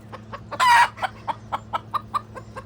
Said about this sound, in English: Flower is a leghorn crossed with a gold laced Wyandotte.